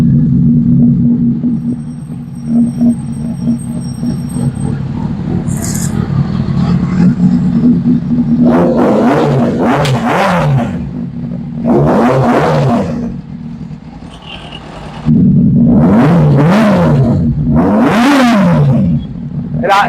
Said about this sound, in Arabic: لكن صوت الموتور ما شاء الله عليه ناعم، ناعم جدا.